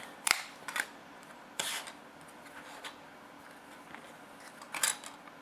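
Plastic brace on a 1/14 Tamiya King Hauler dump truck model being cut, heard as a few sharp, separate snips and scrapes spaced across a quiet, close background.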